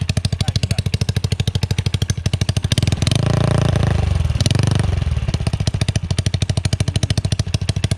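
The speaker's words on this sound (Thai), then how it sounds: "นี่เสียงเดินเบาก็จะประมาณนี้นะครับเบิ้ลนิดนึงได้ไหม" A modified Honda Wave motorcycle idles with a fast, even putter, then revs in one sustained rise and fall before settling back to idle, loud and close.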